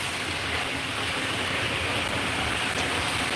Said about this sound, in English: it's raining so bad, I cannot go right now